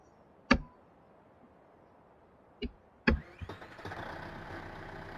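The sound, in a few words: tractor engine in video game Farming Simulator 15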